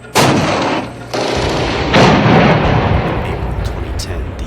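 Heavy gunfire during combat in the Korengal Valley: loud, close bursts and booming shots with rolling echoes, overlapping one another over several seconds.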